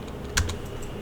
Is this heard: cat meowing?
no